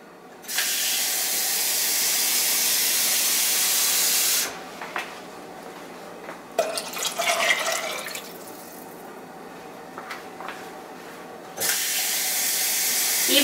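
Three cups of water poured into a soup pot after bacon has been heating in it, giving a steady loud rushing spray and hiss for about four seconds, then quieter clinks and splashes, followed by another burst of rushing water near the end.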